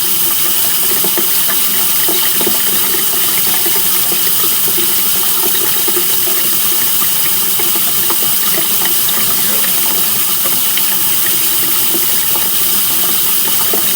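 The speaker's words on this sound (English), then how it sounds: "Actually try to run some water through here while we're doing this." Water runs steadily from a faucet into a sink in a house, a continuous close rushing flow lasting throughout with no talking.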